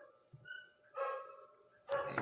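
A dog in a rural home setting gives two short barks about a second apart, close and moderately loud over a steady high-pitched background hum.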